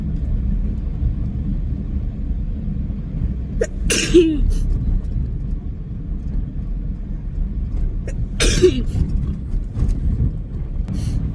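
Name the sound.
sneezing fit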